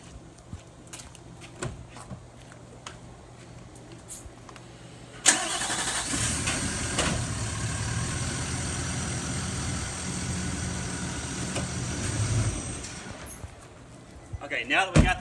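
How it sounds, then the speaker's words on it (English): A pickup truck starts up at a campsite, having just been unhooked from an RV, then runs steadily at a moderate level while pulling slowly forward, with quiet background sounds before the start and a rise near the end. "we can actually slide the truck forward just a little bit"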